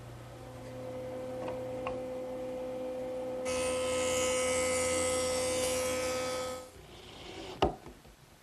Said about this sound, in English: The joiner does a nice job smoothing up the saw cut.